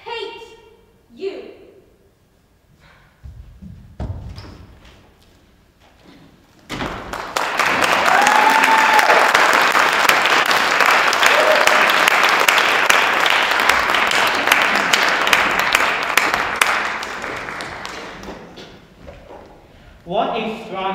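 After a high school performing arts showcase scene, a school audience bursts into loud, sustained applause that swells and then fades, with people talking briefly before and after.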